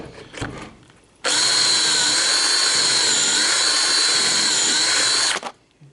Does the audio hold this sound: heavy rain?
no